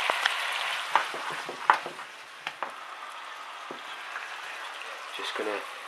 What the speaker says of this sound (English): the mushrooms are getting a nice coating of the garlic butter that's just stirring up.